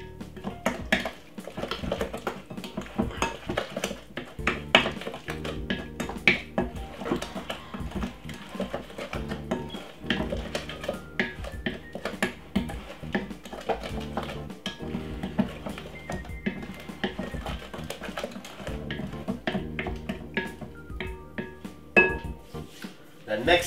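A wooden spoon whisks mashed banana fritter batter in a bowl, Jamaican street-food style, giving a busy, continuous clatter and scraping close by, layered over a steady dense background sound throughout.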